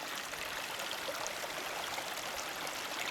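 A stream runs along a trail near the Rhode Island line in February, a faint steady wash of flowing water with no voices.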